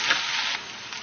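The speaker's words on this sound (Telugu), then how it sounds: "పోపు బాగా వేగింది." A handful of curry leaves and spices tempering in hot oil give a steady, close sizzle that crackles a little louder at first, then settles into a softer, even hiss for about a second.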